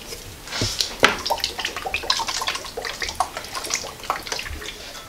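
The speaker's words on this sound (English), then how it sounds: "I'm also going to add a couple of splashes of Worcestershire sauce." Worcestershire sauce poured in a couple of splashes over pork for a slow-cooker pulled pork, a soft liquid trickle and patter close by with a few sharper drips, quiet and without talk.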